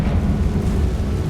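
A Confringo spell blasts in Hogwarts Legacy, a loud, rumbling fiery explosion that fills the moment with dense low-end roar and no voices over it.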